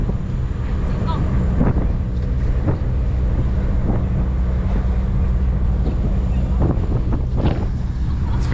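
Strong wind buffets a microphone on the open upper deck of a river cruise boat, a constant low roar with occasional gusty thumps, no voices.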